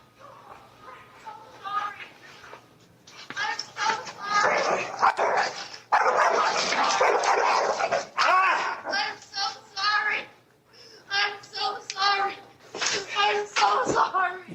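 A dog barks repeatedly in played-back home footage tied to a courtroom dog-bite dispute, its yips and barks in rapid bursts mixed with agitated voices talking and shouting.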